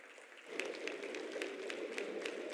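A large audience at the 7th India Mobile Congress, IMC 2023, breaks into applause welcoming Prime Minister Narendra Modi on stage, with sharp individual claps emerging over a steady crowd wash after a quieter opening half-second.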